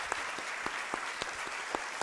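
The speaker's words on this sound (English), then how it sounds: "how about one more round of applause for our" Applause from an audience at a college recruiting information night for four panelists, dense clapping with sharp individual claps standing out, steady and moderately loud throughout.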